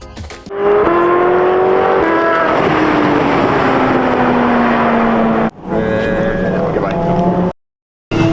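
A Porsche 918 Spyder and a Honda Civic racing on a track, a loud engine roar with a rising then falling pitch as a car passes close, briefly cut off, then another engine drone before a sudden silence at the end.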